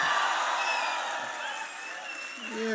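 Graduation convocation crowd cheering and clapping, a broad sustained roar of voices and applause from a large audience, easing slightly midway before swelling again with a shout at the end.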